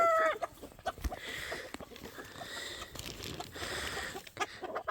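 Chickens cluck in short, uneven bursts close by, a busy farmyard chatter with one sharp squawk at the start and no talking.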